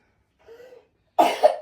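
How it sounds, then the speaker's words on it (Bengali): A person gives a single sharp cough at close range after a brief soft throat sound, with silence around it. "কাশিটা আর গেল না তোমার"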